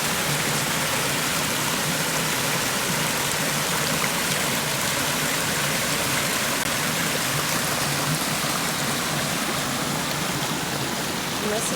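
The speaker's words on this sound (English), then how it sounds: "And this is the water coming down." Spring-fed water flows down a mountain stream with a constant, loud, broadband rushing that holds steady and close throughout.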